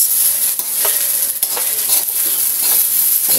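Leftover rice is stir-fried into fried rice in a loud, continuous sizzle. Repeated scraping stirs of the spatula break through the hiss, with no talking.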